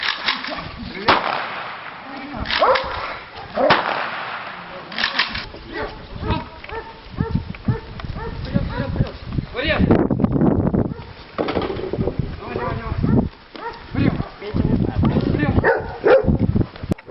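Dogs bark repeatedly in short bursts outdoors during training on an obstacle course, mixed with scuffling and other activity, some barks sharp and close, others farther off.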